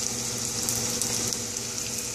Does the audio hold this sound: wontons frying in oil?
yes